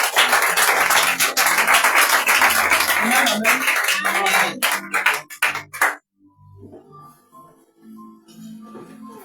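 A church congregation at a prayer and teaching meeting in Yopougon bursts into loud rhythmic clapping that swells, breaks into a few scattered claps and stops abruptly, giving way to quiet room sound and faint voices.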